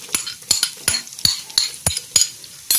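A metal spoon scrapes and clinks rhythmically in a pan as onions with ginger garlic paste and chopped green chillies are stirred, about eight sharp, close strokes with faint sizzling between.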